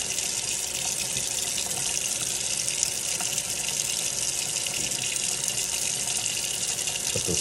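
Tap water runs in a steady, loud gush into a sink as razor clams are rinsed, with no pauses for the whole stretch.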